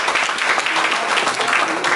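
Church congregation applauding a visiting sister from Châteaudun, a steady dense wash of clapping filling the room throughout without pause.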